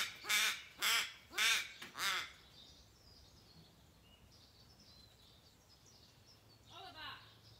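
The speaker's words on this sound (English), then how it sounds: "That crow is so distracting. He's so loud." Four loud, harmonic caws from a crow ring out close by in quick succession, followed by quieter outdoor ambience and a fainter bird call near the end.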